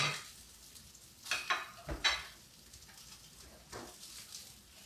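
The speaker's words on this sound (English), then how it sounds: "So this fish is cooking very quickly." Fish cooking in a very hot, lightly smoking skillet gives a soft, steady sizzle, broken by a few brief louder crackles and pan scrapes.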